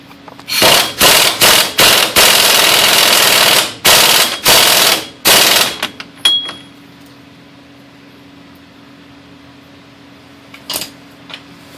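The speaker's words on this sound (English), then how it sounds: "I'm using an impact, but I'm not going to hammer it on." An impact wrench tightening the front axle nut on a Grand Am during a wheel bearing job rattles in a series of loud, short bursts over several seconds, then stops, leaving a low steady hum and one faint later clatter.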